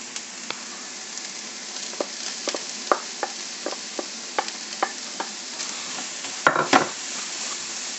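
Carrots and courgettes go into a pan of lightly browned onions, giving a steady close sizzle punctuated by regular soft scrapes and clicks of stirring, with a brief louder clatter near the end and no talking.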